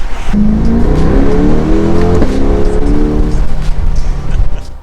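A 2022 Chevrolet Corvette C8 convertible, R Edition, idling and revving its engine after a cold start in winter, loud and close, the exhaust rumbling steadily with rising and falling pitch, no talking.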